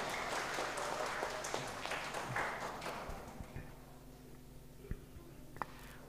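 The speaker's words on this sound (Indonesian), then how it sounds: "Tepuk tangan untuk keluarga baru." Applause for newlyweds at a church wedding blessing ceremony, fairly faint clapping that thins out and fades away, leaving scattered claps and room noise.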